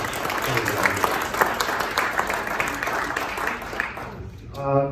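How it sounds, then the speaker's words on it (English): Applause from an audience at a house report meeting, a few seconds of steady clapping that thins out and fades near the end. "I really want to give him a round of applause"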